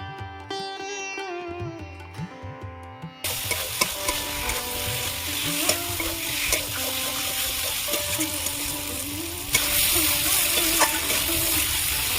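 Pre-fried potatoes are stirred and cooked down in a pan. After a few seconds of tonal music, a dense sizzle with repeated scraping sets in and grows louder toward the end, with the music continuing underneath.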